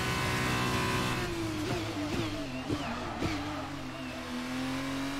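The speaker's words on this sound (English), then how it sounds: "A little lock up into turn one." An F2 race car in F1 22 at Bahrain brakes hard into turn one and locks up. The near, loud engine whine steps down through quick downshifts, with short tire chirps, then settles into a steady tone.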